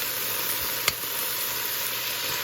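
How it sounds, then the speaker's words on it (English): Seasoning sautéing in a pan for cabbage and salt fish: a steady, close sizzle and hiss with one brief sharp clink partway through, no talking. "I like to at least saute my seasoning."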